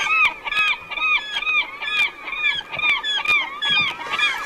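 Loud, repeated honking gull calls in a steady rhythm, close by, with a faint background of water or wind, at a river in Katmai National Park, Alaska.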